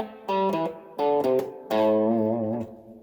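Distorted electric guitar plays a blues scale with a shuffle feel, three loud phrases of swung, sustained notes on their own, as in a beginner blues lesson.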